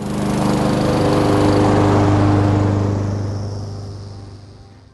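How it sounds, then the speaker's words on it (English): A Honda HRR216PKA walk-behind lawn mower engine runs with a steady, loud droning hum that gradually fades away over a few seconds. "In this video, we'll show you how to properly and safely operate your new lawnmower."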